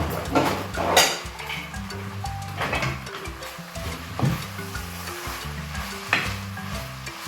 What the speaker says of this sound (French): Nous allons remuer